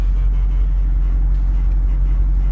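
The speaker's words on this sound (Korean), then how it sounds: "8기통 배기음 아주 멋있게 잘 나옵니다" A BMW M850i V8 with an aftermarket variable exhaust and carbon muffler tips gives a loud, deep, steady rumble, close and continuous, with no talk over it.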